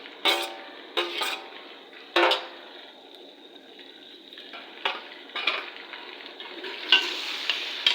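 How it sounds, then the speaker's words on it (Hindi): Ginger garlic paste sizzles in a hot pan while a spoon stirs and scrapes, with repeated clinks and scrapes punctuating a steady frying hiss. "अदरक लहसुन के पेस्ट को थोड़ा फ्राई कर लेते हैं"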